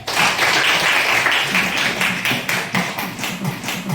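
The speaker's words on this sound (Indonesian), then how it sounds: "Beri aplaus untuk kita semua ya." Students in a classroom applaud together, a close, dense burst of clapping that holds steady before thinning into scattered claps toward the end.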